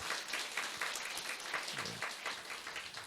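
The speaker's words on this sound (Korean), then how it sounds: "우리 박수 한번 올려드릴게요." A church congregation at a Sunday worship service claps together in steady, fairly quiet applause that continues evenly without a break, with no voices over it.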